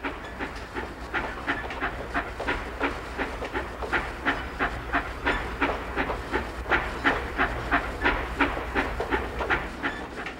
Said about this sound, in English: The loaded trams were moved from the tie yard into the treating cylinder.